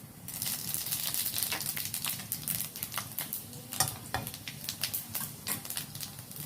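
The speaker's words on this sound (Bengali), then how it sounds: "এবার আমি ওই একই তেলে দিয়ে দেব শুকনো লঙ্কা, আর দিয়ে দেব 5 ফোড়ন" Dried red chillies and five-spice seeds fry steadily in hot oil in a village kitchen, a dense continuous sizzle with scattered sharp pops and crackles, no voices.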